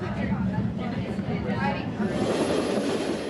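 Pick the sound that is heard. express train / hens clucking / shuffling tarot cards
express train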